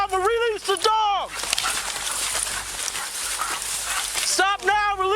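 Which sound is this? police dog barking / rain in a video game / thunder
police dog barking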